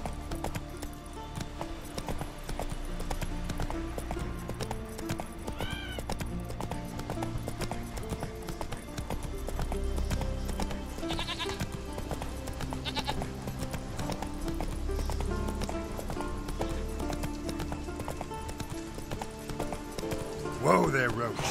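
Hooves of Roach, a horse in Witcher 3, clip-clop at a steady walking pace under game music and ambient sound, with a few brief tonal cries breaking through.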